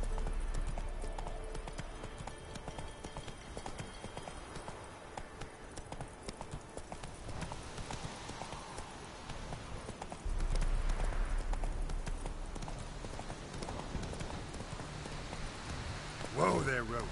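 Roach the horse trots in The Witcher 3, hooves clip-clopping steadily and close throughout, with a louder surge partway through and a brief sharp sound near the end.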